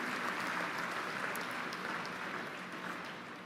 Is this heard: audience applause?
yes